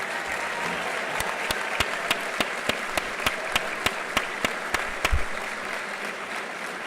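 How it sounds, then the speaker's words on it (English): A large graduation ceremony audience keeps up dense, even applause for retired Hartford Fire Department members, with crisp regular claps popping out of the steady roar until it carries on to the end. "please keep that applause going for all of the retirees from the Hartford Fire Department"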